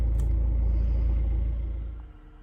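Steady low rumble of a car driving on a UK road, loud and continuous, easing off toward the end with no talking.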